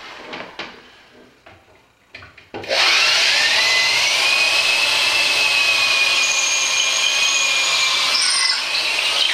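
A power saw cuts a hole in wood while laying model railway trackwork, a loud, sustained whining cut that starts abruptly after a few soft knocks and runs steadily for about six seconds with a slight pitch shift near the end.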